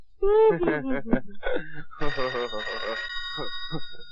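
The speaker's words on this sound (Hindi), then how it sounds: "टेलीफोन उठाओ।" Telephone rings in a Hindi action movie scene, with a steady ringing tone under and between a man's and woman's overlapping speech, close and fairly loud.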